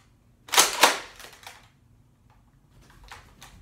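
A Nerf blaster fires, two quick sharp clacks close together followed by fainter mechanical clicks and rattles.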